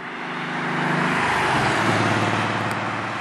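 Porsche 964 Carrera fitted with a Fabspeed Maxflo single-outlet muffler and angle-cut oval tip, cruising at steady speed; a smooth, moderate exhaust drone swells slightly and then eases, heard alone without voices.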